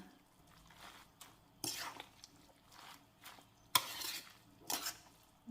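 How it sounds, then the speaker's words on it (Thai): Minced pork filling being mixed with seasoning in a bowl for a banana blossom dish, giving soft, irregular scraping and clinking bursts at close range, fairly quiet between strokes. "ทีนี้เราก็คลุกเคล้าส่วนผสมให้เข้ากันนะคะ"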